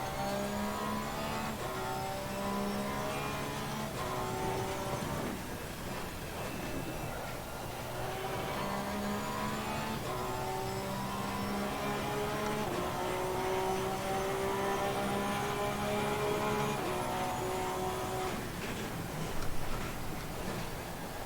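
Race car engine in Assetto Corsa Competizione, loud and continuous, with harmonic revving that climbs and drops through repeated gear changes and throttle sweeps across the lap.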